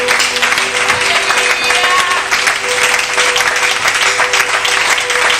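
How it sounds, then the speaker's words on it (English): A church congregation claps steadily and loudly throughout, a dense continuous wash of applause with a faint sustained tone underneath. "Just keep clapping."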